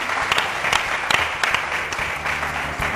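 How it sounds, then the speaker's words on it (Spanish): A studio audience applauds at the end of a Spanish political talk-show broadcast, steady dense clapping from many hands with a few sharper claps standing out, moderately loud and unbroken, no voices over it. "Por favor, un aplauso que lo habéis merecido, hombre, por aguantar a todos estos"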